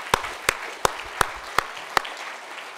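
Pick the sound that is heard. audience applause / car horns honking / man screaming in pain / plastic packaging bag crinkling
audience applause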